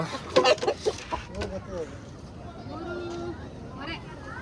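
A large 3.5 kg country rooster gives a few low clucks under people talking nearby, the clucking close and intermittent.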